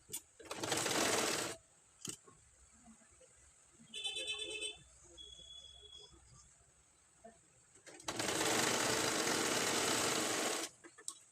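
An electric sewing machine stitching a blouse runs in two loud, steady bursts of rapid whirring, separated by quiet handling noises and a brief faint beep.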